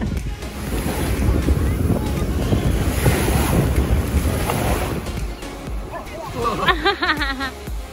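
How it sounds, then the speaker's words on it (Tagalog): Steady wind and surf roar at a sandy seaside beach, close and continuous with heavy wind buffeting on the microphone, and a voice talks briefly near the end. "itong dagat dito sa lugar namin. May buhangin din"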